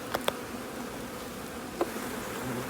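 Honey bees buzzing at an apiary, a steady low drone near and around, with a few faint clicks and brief knocks over the hum.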